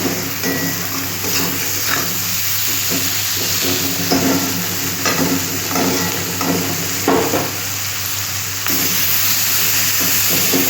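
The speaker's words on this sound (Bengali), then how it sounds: "পেঁয়াজটা একটু সেদ্ধ হবে, ভাজা ভাজা হবে।" Onion and tomato with salt and sugar fry in a pan for a fish curry, giving a loud, continuous sizzle and hiss with intermittent stirring scrapes and a steady low hum throughout.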